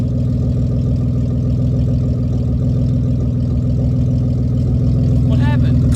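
A Honda Accord with no exhaust idles after a cold start in a loud, deep, steady throb that stays close, with a short higher whine near the end.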